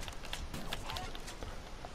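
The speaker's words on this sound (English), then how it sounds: "Blue heron." A blue heron in the Red Dead Online video game gives hoarse, honking calls, several short croaks over a noisy game soundscape, with no talk.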